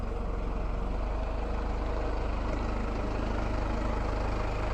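An idling vehicle hitched to a silage trailer in a farm yard gives a steady, low diesel rumble that holds evenly throughout, close and continuous with no other sounds.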